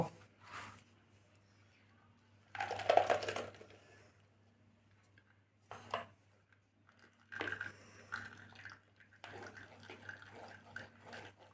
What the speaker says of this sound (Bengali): আঙুরটা পেস্ট করে নিয়ে এলাম এবার ছেঁকে নেব